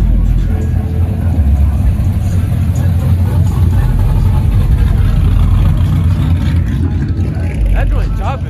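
Car engine idling with a choppy, loping rumble, loud and close, steady throughout, with people talking over it.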